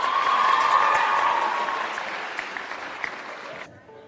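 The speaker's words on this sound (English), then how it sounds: "Clap it out, clap it out." Audience applause fills a leadership conference hall, a dense steady clapping that slowly thins out and stops abruptly near the end.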